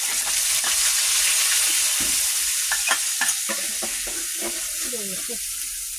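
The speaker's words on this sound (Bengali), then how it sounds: "তারপর আমরা কড়াইয়ে তেল দিছি, দেওয়ার পর এই যে পেঁয়াজ বাটা দিয়ে দিলাম।" Onion paste hits hot oil in a wok, giving a loud, steady hiss of frying with scraping stirs, as a cook prepares a roast after frying chicken; a voice talks faintly beneath the sizzle toward the end.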